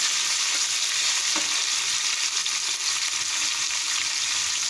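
Garlic and pork stir-fry in a pan for Thai egg fried rice, a continuous close sizzle with faint scrapes of stirring.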